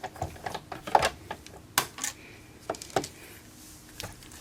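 A manual die-cutting machine feeds a card through, giving a series of close, sharp clicks and ratchety ticks at irregular intervals with quiet gaps.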